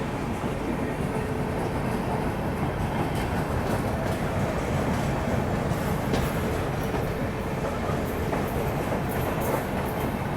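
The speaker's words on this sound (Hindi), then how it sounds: "यहाँ पे अब जम्मू तवी से तिरुपति के बीच चलने वाली हमसफ़र एक्सप्रेस भी आ चुकी है।" A Humsafar Express running between Jammu Tawi and Tirupati pulls into a station platform, its steady broadband rumble of rolling wagons and wheels holding at a constant, fairly loud level throughout without a clear stop.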